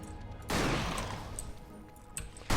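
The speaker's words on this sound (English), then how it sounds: "But yeah, I've been enjoying using the shotgun." A shotgun fires in the action game Victor Vran, two loud, close, booming blasts with a long rolling decay, followed by a short burst of sharper combat impacts.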